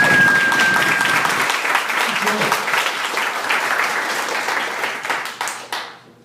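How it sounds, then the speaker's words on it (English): Sunday Assembly gathering in Las Vegas breaks into loud, sustained applause that tapers off toward the end, with a few individual claps fading out. "So please, give yourself a round of applause."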